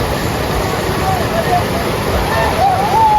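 Rushing current of the Subarnarekha river at Ghatshila, a steady broadband roar of flowing water throughout, with faint voices and a few thin whistling tones on top.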